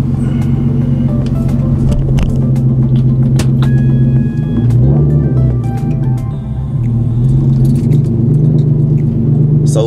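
A Genesis car rolling and shifting into gear after a fresh Redline transmission and differential fluid change, heard from inside as a steady low engine rumble with small clicks and rattles, no talk.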